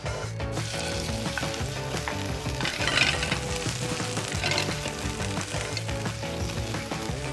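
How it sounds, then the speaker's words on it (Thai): Thai red curry paste sizzles and crackles steadily in a hot pan while it is stirred, with faint scraping under the constant frying hiss. "เราก็ จะนำเครื่องแกงเผ็ด หรือว่าเครื่องแกงแดงเนี่ยไปผัดนะ"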